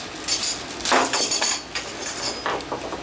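Metal wrenches clink and rattle while a Makita XTR01T7 18-volt cordless trim router is unboxed, a few light, close metallic taps and jingles in short bursts.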